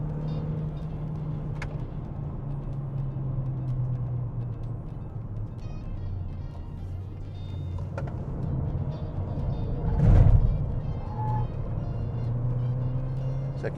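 A Proton S70 sedan with an automatic gearbox drives along, its engine hum rising and then dropping as the transmission shifts up into third, with a brief louder thump of road noise partway through.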